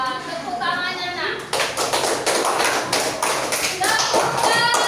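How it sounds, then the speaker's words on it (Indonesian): Schoolchildren in a classroom clap for a group presentation, crisp rhythmic claps breaking out after a short spoken stretch and continuing at a close, lively level, with voices speaking at the start and again near the end. "Tepuk tangannya, nak."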